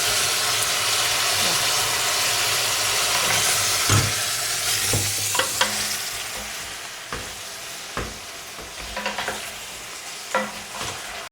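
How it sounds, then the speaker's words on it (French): Fish soup ingredients with a small crab sizzle and fry in a pan, a steady close hiss of browning broken by occasional scrapes and clinks of stirring. "On va dorer doucement."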